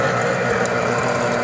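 A steady, loud electric juicer motor whirs continuously at close range, a dense buzzing drone with no pauses.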